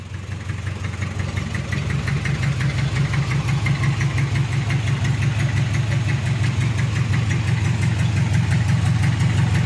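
A Mitsubishi 4D30 diesel engine idles just after starting, a loud, close, rapid rhythmic clatter with a steady low throb that holds even throughout, with no voices over it.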